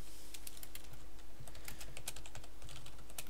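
Rapid clicks of a computer keyboard as C++ code is typed, the keystrokes close and irregular over a steady low electrical hum, with no talking.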